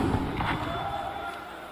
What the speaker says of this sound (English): Big Illy fans in the crowd